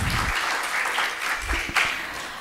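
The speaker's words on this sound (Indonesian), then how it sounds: "Tepuk tangan sekali lagi." Students at a university guest lecture clap together, a fairly quiet and even burst of applause from a room audience with a few sharper individual claps standing out.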